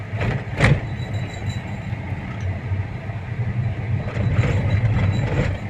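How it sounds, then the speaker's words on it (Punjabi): A train passes at a steady distance, a continuous low rumble with faint rhythmic rattling and brief louder bursts, outdoors without talk. "ਉਹ ਦੇਖੋ ਟ੍ਰੇਨ ਆ ਗਈ"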